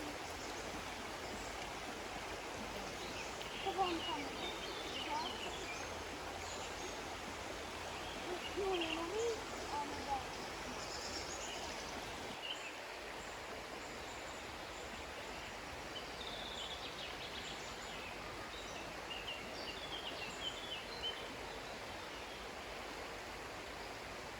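Steady rushing water fills the scene, with faint, sparse bird chirps and calls scattered over the constant flow.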